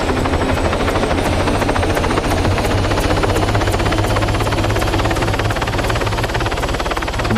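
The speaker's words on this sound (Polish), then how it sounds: "Mamy też helikopter." A helicopter in the Arma 3 military game drones loudly and continuously, its rotor chopping in a steady rapid rhythm close by with no talk over it.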